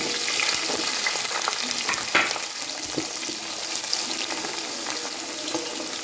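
Green chillies fry in hot oil with mustard seeds and garlic for Kerala mango pickle, a constant loud sizzle with scraping stirring strokes and occasional splutters throughout.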